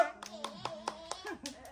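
Hand clapping in a steady rhythm, about eight sharp claps roughly a fifth of a second apart, fairly quiet, with a voice and some speech mixed in between the claps.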